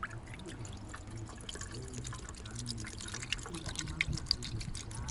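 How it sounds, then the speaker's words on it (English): Head gasket sealer poured through a funnel into the radiator of a Toyota Century, a soft trickling and gurgling of liquid with a few small drips, close by and fairly quiet against a low background hum. "let's go ahead and pour our contents into the radiator."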